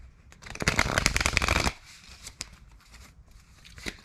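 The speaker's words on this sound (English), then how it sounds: "Let me get us a good shuffle." Tarot cards shuffled briskly for about a second in a dense riffling burst, followed by a few soft taps and card handling, close by.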